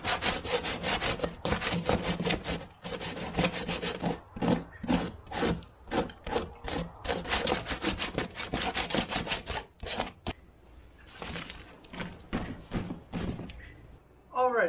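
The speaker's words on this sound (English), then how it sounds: "taking a metal file like this and just getting it all loosened up" Metal file scraping old foam off the backs of boat bow seat cushions, rapid rhythmic rasping strokes close by, continuous then thinning into scattered scrapes near the end.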